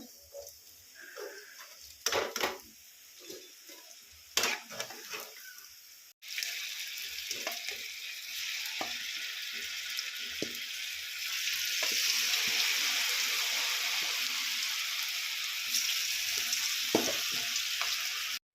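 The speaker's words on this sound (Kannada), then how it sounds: "ಹಿಂಗೆ ಕ್ರಿಸ್ಪಿ ಆಗೋ ತನಕ ಅದು ಫ್ರೈ ಆಗಬೇಕದ." Cauliflower florets for Gobi Manchurian frying in hot oil until crispy, a steady broad sizzle with scattered clicks of a spoon, quieter at first and then louder and denser after a sudden jump, with no talk.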